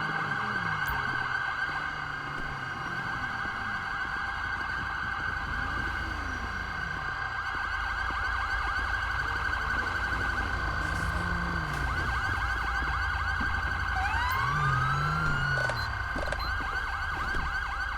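A wailing ambulance siren in the GTA V video game cycles continuously and loudly over traffic rumble, holding steady with slight pitch sweeps and no speech.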